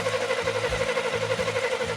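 A truck engine cranks over with the starter during a compression test, giving a rhythmic chugging pulse of about five compression strokes, close and steady.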